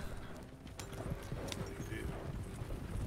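Horse hooves clip-clopping in Red Dead Redemption 2, a steady run of muffled hoofbeats under wind-like background noise and faint talk.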